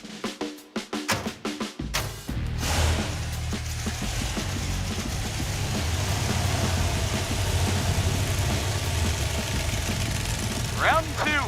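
A Roadkill project car, its engine whining from low power steering fluid, starts up after a few sharp clunks and then runs continuously at a moderate level, with a voice talking over the engine.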